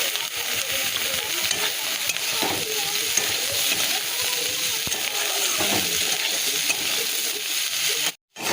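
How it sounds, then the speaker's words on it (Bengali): Brinjal and bitter gourd frying in a pan with salt and turmeric, a steady close sizzle with soft stirring scrapes running throughout. "বেগুনটা দিয়ে দিই, দিয়ে একটু নুন হলুদ দিয়ে বেশ"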